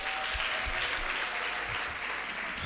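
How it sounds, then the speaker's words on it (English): Audience applause fills a training-day session hall, a steady wash of many hands clapping that holds at an even level throughout. "Let's give you another round of applause."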